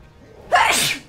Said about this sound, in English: Stop sneezing.